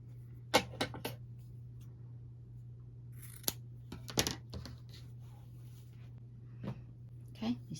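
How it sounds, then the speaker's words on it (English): Scissors snip through quilt binding fabric in a few short, crisp cuts spaced irregularly, quiet and close, with soft handling noises and a low voice between them. "I'm going to cut that off at that mark."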